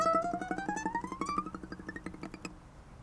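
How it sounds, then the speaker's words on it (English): Ukulele string picked in a rapid tremolo, the pitch sliding steadily upward along the string past the end of the fretboard; quick even plucks ring out alone and thin into scattered picks near the end. "you're going to do a tremolo going all the way up your string past your fretboard"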